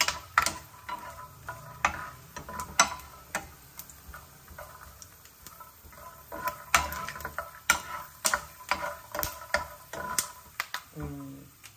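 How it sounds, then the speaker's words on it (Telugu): Peanuts frying in a pan crackle and pop in scattered sharp bursts, close by, while a person talks now and then over the cooking. "కొద్దిగా వేగనిద్దాం. ఇవి చిట్లాలి కదా పల్లీలు."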